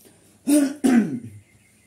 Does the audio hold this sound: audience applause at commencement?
no